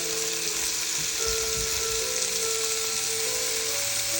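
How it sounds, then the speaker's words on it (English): Blanched squid hits a pan of hot chili oil and fries with a steady hiss, with a few clatters of stirring under the constant sizzle. "Add the cooked blanched squid."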